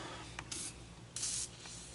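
Aerosol lubricant sprayed onto freshly turned front brake rotors of a 2008 Honda CR-V, heard as two short close hissing bursts, the second longer and louder, over quiet background.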